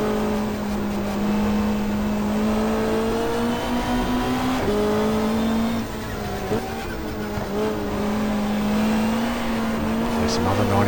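A 1995 Australian Super Touring car racing at Calder Park in the GTR2 sim, its engine droning steadily with pitch dips at gear changes and a faint tire squeal, while someone talks over it.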